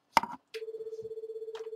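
A telephone rings in the horror video game The Crooked Man, after a sharp click. A steady pulsing electronic tone repeats rapidly and evenly, clear and close, with faint noises over it.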